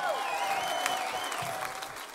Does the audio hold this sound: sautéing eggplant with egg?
no